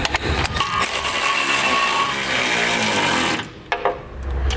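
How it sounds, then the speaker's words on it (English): A 13mm socket running bolts back down while a Curt trailer hitch is installed on a 2015 Chevrolet Silverado 2500. It sounds as a loud, steady buzzing whir from a power tool that stops abruptly near the end. "we'll take our 13mm socket and run those back down."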